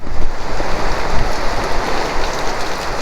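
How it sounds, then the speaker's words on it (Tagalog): Heavy rain pours steadily in Infanta, Quezon, Philippines, a dense loud hiss drumming on surfaces with no voices. "Inabutan tayo ng ulan dito."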